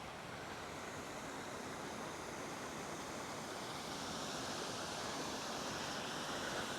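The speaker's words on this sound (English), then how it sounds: "One last look at how the waterfall looks from pretty much every angle" A waterfall roars in a steady broadband rush, an even, constant wash of falling water heard fairly faint from a distance with no voices.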